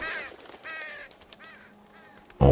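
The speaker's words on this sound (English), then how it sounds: "Or just birds." Out in the woods, harsh cawing bird calls repeat several times at moderate distance, ending in a sudden loud thump.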